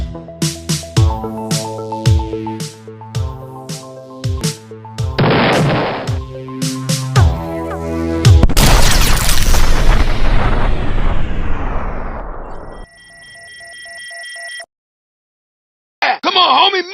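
Repeated sharp firework blasts and booming bursts in a video game crackle in quick succession, growing into a dense loud roar before cutting to a high ringing tone.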